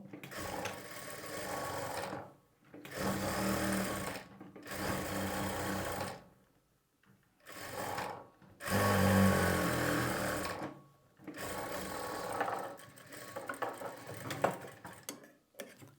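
A sewing machine stitches blouse lining in several quick rattling runs of a few seconds each, separated by short pauses, close and clear.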